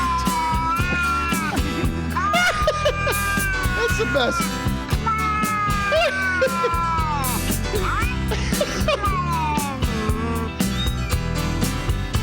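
Meowing cat-like cries repeat over a busy music track with steady beat, while a voice speaks briefly near the end.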